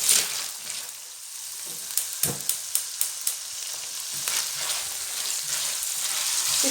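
Onions fry in two tablespoons of oil with ginger paste, a soft, continuous sizzle broken by a run of sharp spoon taps and clinks against the pan as they are stirred.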